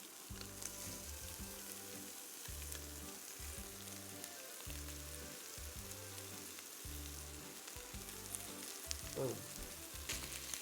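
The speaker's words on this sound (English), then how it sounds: "we're gonna sear them on each side about 1 to 2 minutes" A steady, crackling sizzle of braciole searing in a hot pan, with a low rhythmic hum running underneath.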